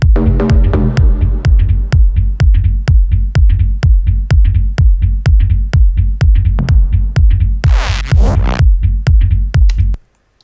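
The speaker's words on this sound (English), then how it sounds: "So that's the FM bass." A punchy FM synth bass pumps out a fast, steady run of short repeated notes with sharp attacks, loud and upfront, briefly joined by a bright noisy sweep near the end before cutting off.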